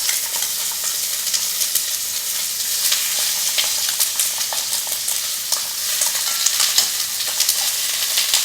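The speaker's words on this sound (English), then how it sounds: "If you don't hear it sizzle, you're not doing it right." Steady, crackling sizzle of chicken frying smooth side down in hot oil in a pot, close and continuous, with small pops and spatters throughout.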